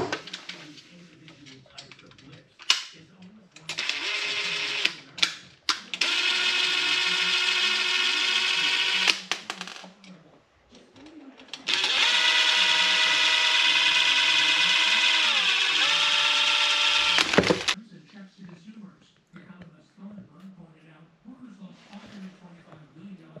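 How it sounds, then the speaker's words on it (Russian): Power sander working drywall putty on a ceiling during an electrician's job in the US, running in two long sustained bursts with steady whine, separated by short gaps and brief handling noises, moderately loud and close. "шпаклевать, сушить, сэндить, в смысле шкурить"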